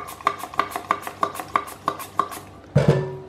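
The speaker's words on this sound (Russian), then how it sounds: "На терке натру картофель, порежу очень тоненько." Potato is thinly sliced on a grater, giving a steady run of eight crisp rhythmic strokes, each a short rasp with a clear click, followed by a louder, duller knock as the work stops.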